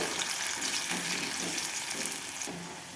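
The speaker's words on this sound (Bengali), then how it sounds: "একটু লাল লাল করে ভেজে নিয়েছি" Potatoes frying in mustard oil in a wok, a brief steady hissing sizzle heard up close, with a couple of soft stirring sounds and no voices.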